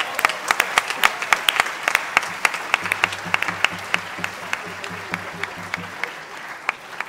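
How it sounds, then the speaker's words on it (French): Audience applause at a stage show in Namur, heard as a series of sharp, separate claps at moderate distance, sparse rather than a dense roar, with a low steady hum running underneath partway through. "On peut les applaudir encore une fois, je pense."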